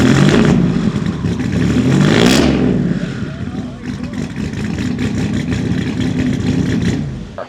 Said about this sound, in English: It just sounds like no Wow. V6 I've ever heard in my life. It's a tough sounding car.